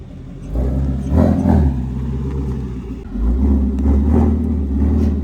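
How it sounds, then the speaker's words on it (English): A Ford Shelby GT350 with a Borla Attack exhaust runs nearby with a deep, loud rumble, swelling twice in throaty revs over a steady low drone. "That Borla Attack exhaust sounds insane."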